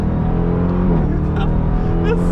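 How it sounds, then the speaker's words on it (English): A Dodge Durango SRT Hellcat's supercharged engine held at full throttle, a loud, close, sustained roar with a rising pitch as the SUV accelerates, heard without talking over it. "The sound at full throttle is insane."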